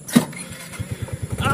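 A small engine sputters to life after a brief sharp noise, settling into a quick, chugging idle with rising revs at the end.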